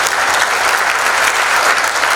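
An audience at an economic outlook talk claps loudly and steadily, a dense wash of applause that fills the whole moment without a break.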